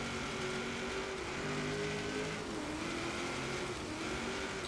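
A steady engine drone from a modified 1974 Holden Sandman HQ panel van in the video game Forza Horizon 3 holds a fairly constant pitch with slight rises and dips, cruising, heard alone without talk.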